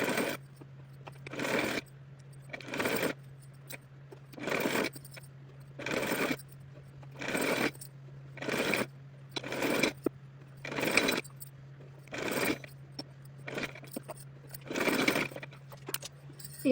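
A sewing machine stitches along the edge of a fabric strip in short repeated bursts, each run of rapid mechanical whirring separated by brief pauses, close and moderately quiet against a steady low hum.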